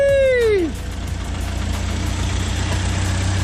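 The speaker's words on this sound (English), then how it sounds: "the engine is running like a beautiful clock" A '56 Land Rover Series I 86-inch wheelbase engine runs after being restarted, following a falling whine that drops away in the first second, then settles into a steady, close, rhythmic idle.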